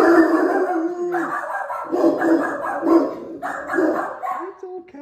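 Dogs bark repeatedly indoors in a house, with loud overlapping barks and some howling yips in irregular bursts, fairly close.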